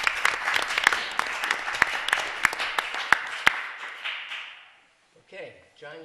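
A town board meeting audience in Marlborough applauds a councilman, a steady round of clapping with sharp individual claps standing out, fading after about four seconds before a voice begins speaking.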